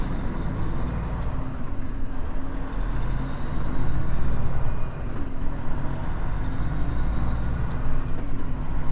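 A truck idles steadily after being taken out of gear with its brakes released, giving a continuous low engine rumble with a faint hiss, close and unbroken throughout.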